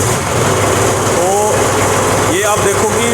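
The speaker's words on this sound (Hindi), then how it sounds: "तो हम इसको पहले ट्रैक्टर को स्टार्ट करते हैं" A loader tractor's engine runs steadily and loudly at a low idle throughout, a continuous close rumble with faint higher squeaks over it.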